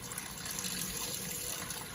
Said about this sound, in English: and then I'm going to just fill the jar to start with, just with clean water.